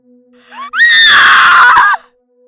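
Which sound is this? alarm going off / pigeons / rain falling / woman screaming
woman screaming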